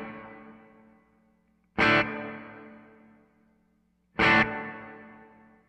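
Two distorted guitar chords struck through a TC Electronic Hall of Fame reverb pedal on a long reverb setting, each ringing out in a long decaying wash about two seconds apart.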